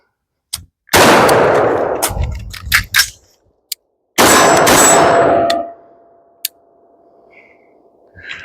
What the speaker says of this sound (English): So 1, take a few steps as I reload, and then 2 on to steel.